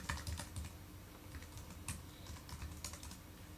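Quick, light keystrokes on a Mac computer keyboard, a steady patter of clicks with a few louder taps, close and quiet with no talking.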